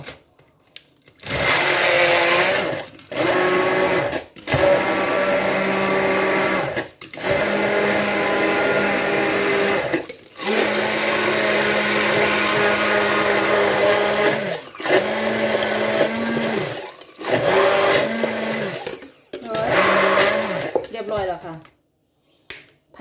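An electric blender whirs through a spicy dipping sauce for barbecued tiger prawns, running loud and close in a series of bursts separated by short pauses, with a voice speaking around it.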